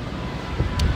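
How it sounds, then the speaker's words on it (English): Strong wind blasts straight into the microphone outdoors near a restaurant in New Orleans, making a continuous low, rumbling buffet through a brief second with no speech. "It's windy as hell."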